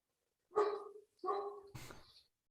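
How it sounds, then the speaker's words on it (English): A dog barks three times in the distance, each bark a short spaced burst, the last harsher, with silence between. "And there is a dog somewhere."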